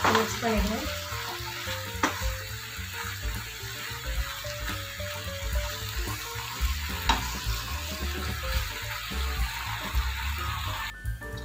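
Boiled plain macaroni pasta stirred in a pan, with steady sizzling and scraping stir sounds running throughout at close range, occasional louder clinks, and no talk.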